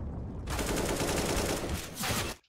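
Automatic gunfire in Counter-Strike on the Cobblestone map: a dense, loud burst lasting about two seconds, briefly easing and then flaring again before cutting off.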